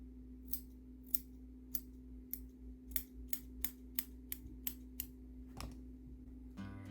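Scissors trim the ends of a doll's hair in a quiet room, giving about a dozen crisp, close snips at a steady, unhurried rhythm, with a soft low hum running underneath throughout.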